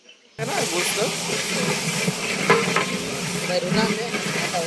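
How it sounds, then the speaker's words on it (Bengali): Meat is stirred in a pot over a wood-fire stove, producing a continuous close hissing sizzle with scraping and stirring noises, beginning abruptly after a brief silence. "তারে দিয়ে দিছি লাড় তুই লাড়তে থাক কারণ জালের চুলা এটা না নানলে এটা নিচে লেগে যাবে"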